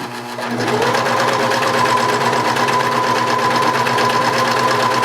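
A serger overlocks around the sleeve opening of a T-shirt, running in one loud, steady, continuous whir at an even pace after a brief start-up, close and uninterrupted.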